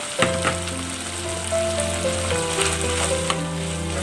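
Carrots stir-fried in a hot pan, a steady close sizzle with spatula scrapes and stirring throughout, loud and unbroken, no voices.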